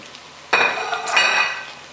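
About a pound of smoky, spicy andouille sausage hits a pot for jambalaya, giving a sudden close clatter of pieces and metal clinks, then a second rattling scrape as they settle.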